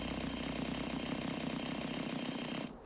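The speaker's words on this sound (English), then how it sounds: "The chainsaw, I think, only works for the plants." A chainsaw in the video game Cloud Gardens buzzes steadily as it cuts through plants, a dense rattling drone for nearly three seconds before cutting off abruptly at the end.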